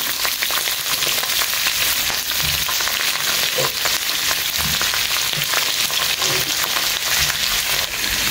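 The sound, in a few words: curry leaves, ginger and chopped onion frying in pan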